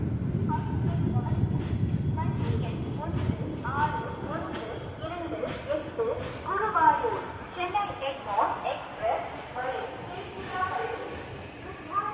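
A MEMU express train on the Coimbatore to Dindigul line pulls into Dindigul junction, opening with a low rolling rumble that gives way to squealing, clattering wheel and brake sounds, while someone talks throughout.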